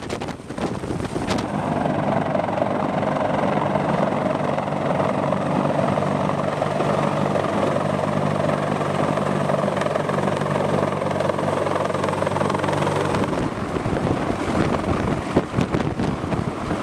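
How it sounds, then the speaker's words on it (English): A giant heavy-lift helicopter roars nearby with a dense, continuous rotor and turbine drone, joined by gusty wind noise on the microphone, its steady loud rumble easing slightly toward the end. "The power of this giant helicopter is incredible."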